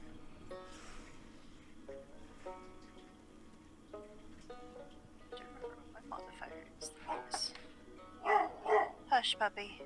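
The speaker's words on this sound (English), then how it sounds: "Sorry about the dog." A dog barks and yips indoors at a distance, in scattered bursts that grow louder and closer near the end, under ongoing conversation.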